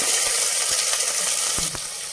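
Onions hitting hot oil spiced with fennel, cardamom, cinnamon and cloves for a Chennai-style vada curry, giving a steady broad sizzle with a few sharp clicks of a utensil against the pan, no voices.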